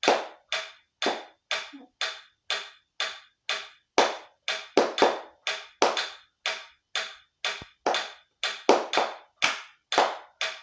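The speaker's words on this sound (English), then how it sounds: "Okay, just clap the rhythm" Hands clapping a steady musical rhythm alone, about two dozen sharp, close claps in a regular pattern with occasional quicker doubled beats.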